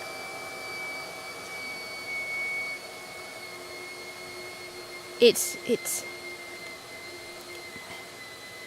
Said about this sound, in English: the vacuum cleaner's going off